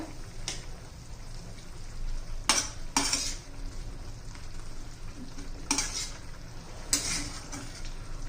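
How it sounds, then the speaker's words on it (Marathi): Moong dal and onion with coriander stirred in a pan over a continuous low sizzle, punctuated by several sharp spoon-on-pan scrapes and clinks at irregular intervals, no voices. "आता व्यवस्थित मिक्स करूया"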